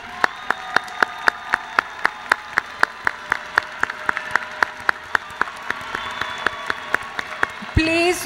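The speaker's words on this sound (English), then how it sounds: "Let's applaud the law graduates." Law graduates at a fall university commencement ceremony are greeted with sustained applause from a large audience, a dense wash of clapping punctuated by sharp regular knocks, ending with a brief shuffle.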